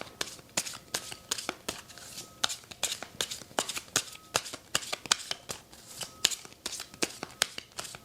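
Tarot cards shuffled and pulled during a reading, a run of crisp, rapid riffling snaps and flicks close by, steady and rhythmic with no talk.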